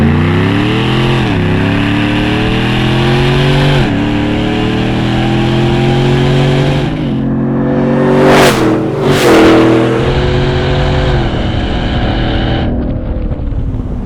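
A 650 HP supercharged Hennessey Yukon Denali in two-wheel drive accelerates hard with tires spinning, its loud engine climbing through repeated revving pulls and shifts, with gusts of wind noise across the microphone midway.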